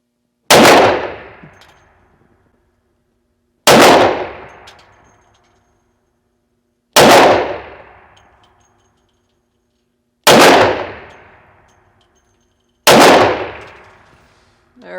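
A Coonan Classic .357 Magnum pistol fires five loud, close shots spaced about three seconds apart, each a sharp crack followed by a ringing decay.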